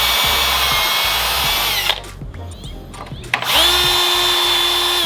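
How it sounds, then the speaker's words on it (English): A power drill bores a hole for a carbon fiber lip kit on a 2023 Subaru WRX, whining loudly at high speed, dropping out briefly in the middle, then spinning up again close by. "So I'm gonna go drill this one hole up real quick."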